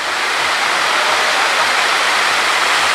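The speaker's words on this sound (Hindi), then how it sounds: "तो ये सुगी बेड वाटरफॉल है, ये आप देख रहे हैं, बहुत खूबसूरत है।" The Sugi Bed waterfall in Seo valley, Indus Kohistan, gives a steady, dense rush of falling water that holds constant and loud from start to finish with no voices.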